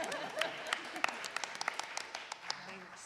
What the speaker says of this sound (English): You should clap again.